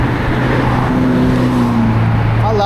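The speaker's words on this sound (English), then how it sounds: "Let's take a look at the traffic." Road traffic passing near an eBike on a Monday morning commute over a freeway overpass, a steady loud roar of cars with engine hum throughout and no talk.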